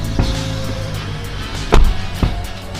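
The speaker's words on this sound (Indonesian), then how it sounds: "Dan sekarang suara tutupan pintunya" A few dull thumps of a 2022 Wuling Cortez Turbo car door shutting, fitted with full sound deadening, one solid heavy closing standing out over a steady low background hum.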